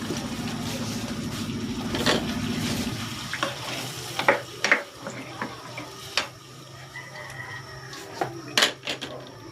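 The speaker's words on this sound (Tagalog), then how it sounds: "Maglalagay na rin ako ng tubig." Water poured from a container into a pot of lechon paksiw: a short splashing pour in the first seconds, then scattered clinks, taps and quiet bubbling in a kitchen; no talk.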